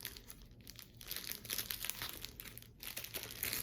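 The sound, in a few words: opening a small plastic bag from a weaving kit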